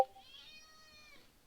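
A cat meows once, a clear drawn-out tonal cry lasting just over a second, close and fairly quiet, heard alone after a brief click at the start.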